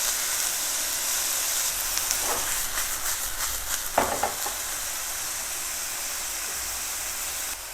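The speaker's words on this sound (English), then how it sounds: "add all marinated beef to it. Spread the meat, otherwise it's gonna turn like a meatball." Marinated bulgogi beef sizzles and fries steadily in a hot pan, a continuous close hiss with brief stirring clatter, no talking.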